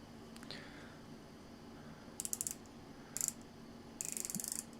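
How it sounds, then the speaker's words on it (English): The bezel of an Orient diver watch is turned by hand in three short bursts. Each burst gives a crisp, close run of quick ratcheting clicks against a quiet room. "Bezel action feels nice."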